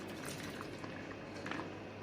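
Cooking water drained off boiled kabuli chickpeas, a steady soft bubbling, trickling pour heard alone and fairly quiet for the full two seconds.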